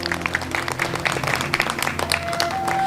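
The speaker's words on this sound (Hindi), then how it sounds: "सब लोग एक बार ताली बजा दो" A group of children at a girls' shelter home in Uttarakhand clap together, steady dense applause running for a few seconds with a faint voice and a rising whistle-like tone near the end.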